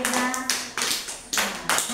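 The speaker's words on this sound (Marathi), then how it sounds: "टाळ्या वाजवा तिच्यासाठी एकदा." A girl is clapped for during a paper collage and flower-decorating activity at a preschool centre: a handful of sharp, irregular claps close by, with a voice faintly underneath.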